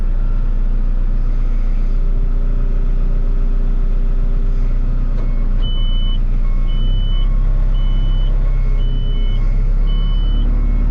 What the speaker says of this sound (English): So we're getting the trailer picked up now.